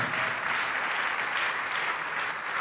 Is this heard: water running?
no